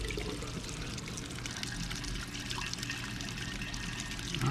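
Water flows and trickles continuously at a low, steady level, with a slight rise at the end.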